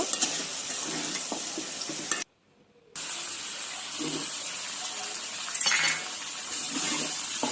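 Pre-fried meat sizzles in a pan while being stirred, with a steady hiss, scraping and clinking of utensils, a brief silent break partway, then more stirring.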